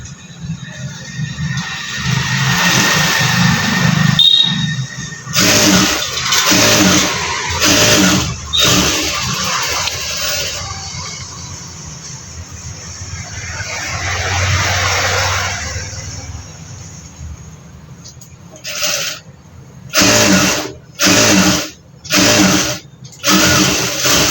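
An electric sewing machine stitches lining onto a fabric border for a blouse sleeve, whirring in uneven runs broken by short pauses and ending in a string of quick bursts.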